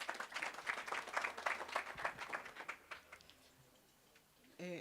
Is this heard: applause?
yes